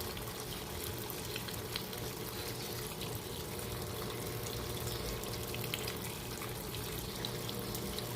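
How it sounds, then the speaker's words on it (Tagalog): A Fujidenzo HD inverter washing machine with a direct-drive motor fills with water, giving a continuous low rushing flow that stays fairly quiet and steady throughout, with no talking. "kusa siya magdadagdag ng tubig kung kinakailangan"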